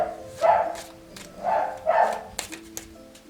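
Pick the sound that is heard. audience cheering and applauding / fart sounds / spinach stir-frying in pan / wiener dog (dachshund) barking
wiener dog (dachshund) barking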